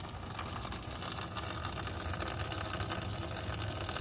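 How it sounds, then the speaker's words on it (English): Water pours steadily into a cold plunge ice bath tub. It makes a continuous rushing, gushing wash with a faint pump-like hum beneath it, and no speech is heard. "fill it with water"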